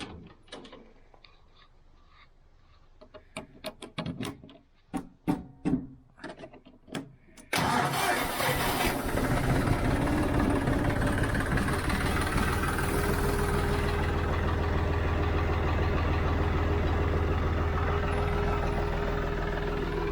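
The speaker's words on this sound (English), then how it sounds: "See if my John Deere will start." A John Deere tractor engine cranks in several short bursts on a cold day, then catches and settles into a loud, steady diesel idle that runs on.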